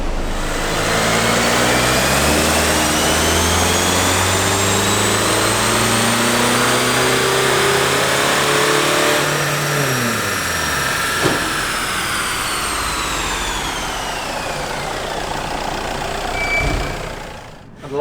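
A car engine drones steadily at high load on a dyno, its pitch sweeping upward through the run and then dropping off, loud and continuous with a turbo whine above it.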